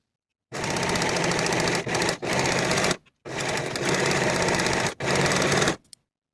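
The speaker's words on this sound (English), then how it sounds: "Sew the long raw edges at 3/8 of an inch." A sewing machine runs in two long, fast, loud whirring bursts while stitching the long raw edges of fabric straps, with brief pauses between them and no talking.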